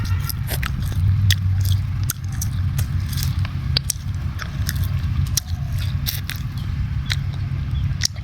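Someone chews a folded strip of freshly peeled tree bark in the jungle, giving repeated crackly bites and scrapes close by over a steady low rumble of background noise, with no talking.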